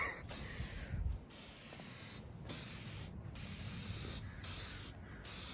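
Headlight coating is sprayed from an aerosol can onto a sanded headlight in several steady hissing bursts with short gaps between them, close and fairly quiet, with no voices.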